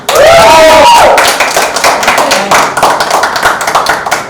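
A radio event crowd claps briskly and continuously, loud and close, after a short whistle at the start.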